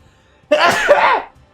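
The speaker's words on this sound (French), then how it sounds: "Oh, faut que j'éternue." A single close, loud, voiced sneeze from a man playing Destiny 2, one sharp burst lasting under a second against near silence.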